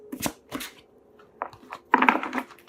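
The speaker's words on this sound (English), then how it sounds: "Just giving these a quick shuffle." A Rider-Waite tarot deck being shuffled by hand in a few short bursts of riffling card noise at close range, with quiet gaps between them and no talk.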